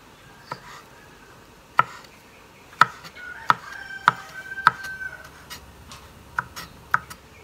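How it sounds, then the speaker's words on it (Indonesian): Aloe vera being chopped into small pieces on a board: about a dozen sharp, crisp knife strikes in an uneven rhythm, close and clear against a quiet background. "kemudian kita potong kecil-kecil"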